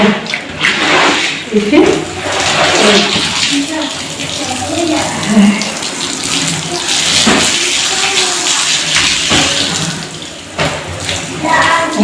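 Water from a hose runs and splashes steadily over a carpet being washed, loud and close, while someone talks over it.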